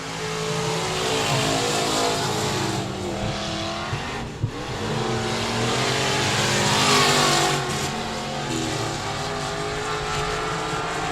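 Race cars roaring past on the 67 Speedway in Texarkana, a loud steady engine drone with rising and falling passes and brief tire noise.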